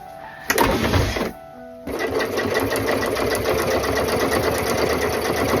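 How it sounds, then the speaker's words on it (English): A sewing machine runs fast and steady, stitching together the two ends of fabric strips for a giant dog beanbag. It stops briefly, then whirs on in a loud, close, continuous run. "Just sew the 2 ends together."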